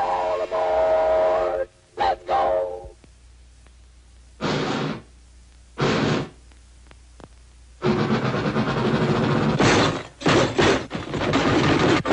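Several loud steam train whistle blasts from a cartoon train sound in bursts, separated by short silences, ending in a longer stretch of hissing steam.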